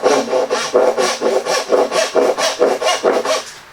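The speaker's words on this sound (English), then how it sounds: "I'm actually using a crosscut saw now" A crosscut hand saw works through wood in a steady back-and-forth rhythm, with over a dozen rasping strokes close by and loud, and no talking.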